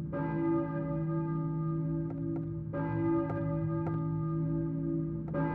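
A church bell tolls in the Silent Hill video game, deep sustained ringing with several distinct strikes spaced a second or so apart, the long humming decay filling the gaps, with no talking.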